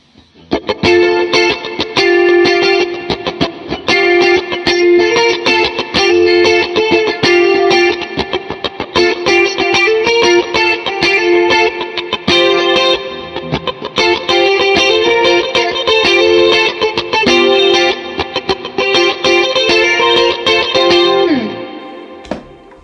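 An electric guitar with a shimmering, swirling chorus effect plays a steady groove of chords and notes throughout, clear and up close, no voices.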